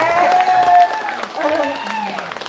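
Applause from the audience at a live Balinese drama gong performance, brief clapping heard beneath and between a man's amplified speech and tonal music.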